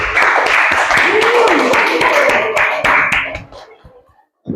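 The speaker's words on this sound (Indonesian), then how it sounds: "Ya sudah, kita beri aplaus." A classroom applauds a student group with a burst of brisk hand clapping that fades out after about three seconds, while a voice talks over it.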